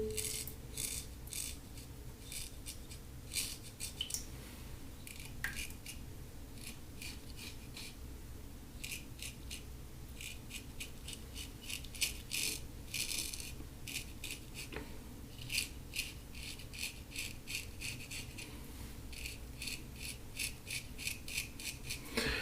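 A vintage 1924 Ever-Ready shovelhead safety razor scraping over lathered skin with Rasoirs Darwin shaving soap, a close, quiet run of crisp rhythmic rasping strokes in repeated clusters, with no talk.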